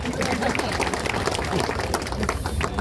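A crowd claps in welcome for three donors at a Hanuman temple renovation groundbreaking ceremony in Satpur, a steady, dense patter of many hands sustained throughout, fairly loud and mixed with faint crowd murmur.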